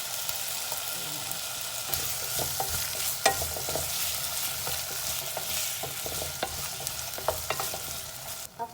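Potatoes sizzle steadily in a frying pan while being stirred for an aglio olio, with occasional sharp utensil scrapes and clicks against the pan.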